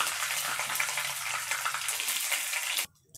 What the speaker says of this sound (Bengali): তেল গরম হয়ে গেছে, এবার আমি তেলে তেজপাতা আর জিরে ফোড়ন দিলাম।